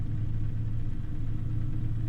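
Heavy truck engine in American Truck Simulator, held in second gear on an icy winter road, makes a steady, loud low rumble with a constant droning tone, alone and continuous throughout.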